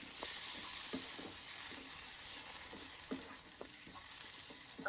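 Thick ground masala paste sizzling quietly in a pan for Tamil egg masala curry, with a spoon scraping and stirring in irregular strokes; no voices.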